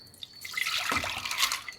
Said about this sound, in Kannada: 1 ಕಪ್ ಬೇಳೆಗೆ 3 ಕಪ್ಪು ನೀರು ಹಾಕಿ ಅದನ್ನೇ ಕುಕ್ಕರಲ್ಲಿ ಹಾಕಿ.